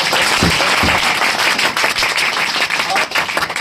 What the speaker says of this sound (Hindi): जोड़ा ताली होना चाहिए